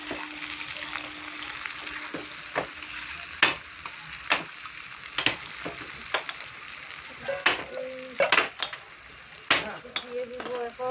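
Onions for a fish curry sizzle and fry in a hot pan, a steady crackle broken by repeated sharp scrapes and clinks of a spatula stirring, with brief voice sounds now and then.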